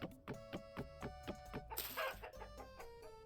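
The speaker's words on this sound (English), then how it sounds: "That is a hen." A hen in the video game Vintage Story clucks in a quick run of short, evenly spaced calls, then gives a longer, higher squawk. The sound is faint and heard alone.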